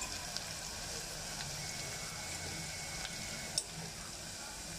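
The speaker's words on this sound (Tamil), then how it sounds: "வெங்காயம் நல்லா வதங்கிருச்சு" Onions sautéing in oil for Madurai-style mutton ennai kari give a steady, soft sizzle and crackle throughout, with a couple of faint clinks from stirring and no talking.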